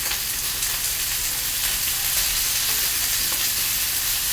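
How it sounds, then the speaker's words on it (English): Porcini gorgonzola sauce bubbling steadily in a pan, a dense, even sizzle and crackle that stays loud and constant from start to finish with no voices. "I'm seeing it kind of bubbling a little too strongly, so I'm going to turn my heat down just a touch."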